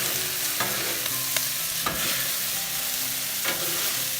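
Kung pao chicken sizzling on an outdoor griddle as it is mixed, a continuous loud hiss of frying with a few sharp scrapes of a spatula on the metal surface.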